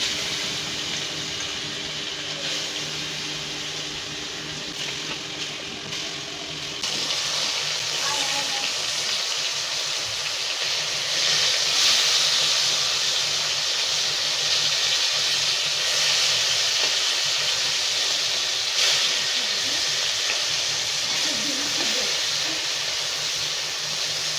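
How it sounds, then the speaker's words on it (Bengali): Rohu fish frying in hot oil in a wok gives a steady, close hiss that swells louder partway through and then holds as a dense, continuous sizzle, with no talking. "এখন মাছটা দিয়ে দেবো কড়াইতে।"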